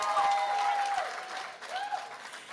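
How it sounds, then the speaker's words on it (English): Audience at a prep school graduation applauding and cheering in a dense, continuous crowd clap, with a whistle or shout rising over it. "Give them a bigger round of applause than that"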